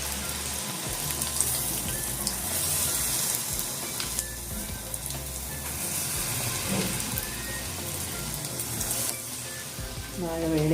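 Spoonfuls of challa punugulu batter frying in hot oil, a loud, dense and continuous sizzle with bubbling and crackle, close up and unbroken, with faint speech underneath.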